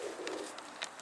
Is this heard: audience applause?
no